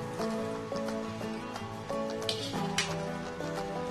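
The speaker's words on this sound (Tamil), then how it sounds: "இப்ப இந்த நூடுல்ஸ நல்லா உடைச்சு இந்த மசாலா, முட்டை எல்லாத்தோடையும் சேர்த்து கலந்து விடணும்." Rice noodles are stirred together with masala and egg in a pan, with repeated metallic clinks and scrapes of spoons over a soft, continuous sizzle.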